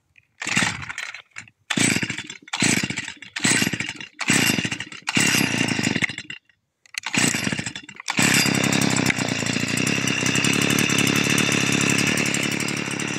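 A STIHL FS 55 petrol brush cutter with a rough-running fault sputters through several uneven, choppy bursts as it restarts, then settles into a loud, steady idle close by, with no one speaking.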